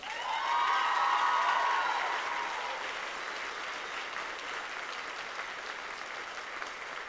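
An audience applauding after a high school choir finale, loud clapping in a full room that peaks early, then settles into a steadier, thinner round that continues to the end.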